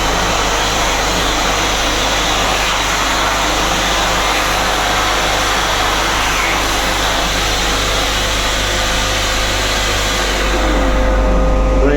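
Hand dryer in a Vande Bharat train washroom blows with a loud, steady roar close by, continuous for the whole stretch and easing off only at the very end.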